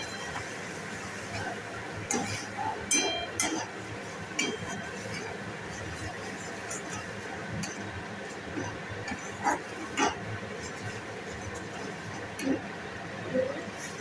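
Tomatoes frying in a pan: a continuous soft sizzling hiss sprinkled with small sharp pops and crackles that recur irregularly throughout.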